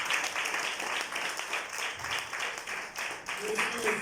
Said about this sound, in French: Restez debout sous vos acclamations.